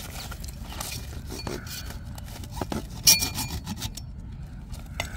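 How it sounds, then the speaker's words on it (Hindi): A hand saw rasps in irregular scraping strokes during pipe-fitting work for a farm water pump, close and fairly loud amid background noise. "आरी के साथ काटो"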